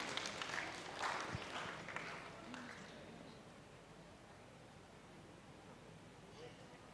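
An audience applauds at the BNPS 2023 awards ceremony. Dense clapping swells for a few seconds, then thins and fades into a quiet room hush.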